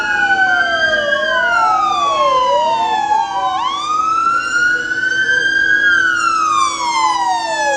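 Several loud ambulance sirens wail and sweep up and down together, overlapping continuously without pause, arriving at Rivne Regional Clinical Hospital.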